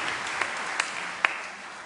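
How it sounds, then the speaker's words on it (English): Steady applause from a concert audience honouring songwriters at a celebration, a sustained wash of clapping with a few sharper individual claps standing out above it, brief and fairly even. "give them a round of applause"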